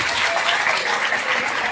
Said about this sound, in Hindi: अब्दुल कलाम जी के लिए एक बार जोरदार तालियां हो जाए